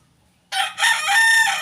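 A wild junglefowl rooster, a labuyo, crows once loudly and close by, a single drawn-out call that rises and then holds steady, with no voices around it.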